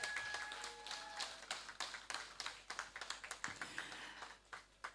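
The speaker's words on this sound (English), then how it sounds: "Sally, give Sally a big round of applause." Applause from the audience at an evening media launch for a food, rum and reggae festival as an honoree is recognized: a quiet, somewhat distant patter of many irregular claps building and thinning out, with no voices.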